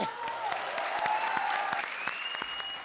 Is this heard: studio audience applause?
yes